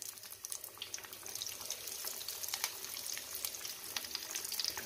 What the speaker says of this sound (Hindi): शेलो फ्राई करेंगे कबाबों को।